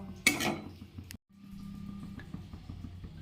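Marinated fish is stirred in a pan, beginning with a sharp metallic clank of a utensil, then a short pause, followed by soft, quiet scraping and shuffling.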